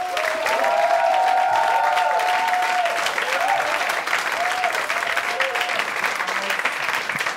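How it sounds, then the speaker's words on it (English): Audience applause greets a multi-award-winning comedian taking the stage at a comedy show, a steady dense roar of clapping sustained throughout with faint voices and cheers mixed in. "a huge round of applause as you welcome on stage multi-award winning comedian, Mr. Yaaseen Barnes."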